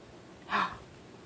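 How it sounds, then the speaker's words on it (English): A baby lets out a single soft, breathy yawn lasting about a quarter second, faint and close. "Yawn. Someone's tired and drooly."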